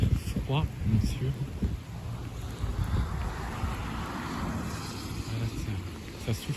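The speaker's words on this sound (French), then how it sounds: "ça souffle au niveau du vent" Strong wind gusting outdoors as a squall line of thunderstorms passes, with steady broadband roar and buffeting on the microphone, and someone talking over it throughout.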